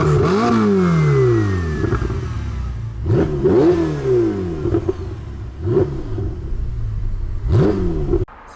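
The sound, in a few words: Ferrari 488 engine revving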